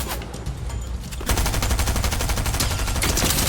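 Rapid automatic gunfire in a Fortnite Zero Build match, a dense, steady stream of loud shots that intensifies sharply partway through and continues without pause.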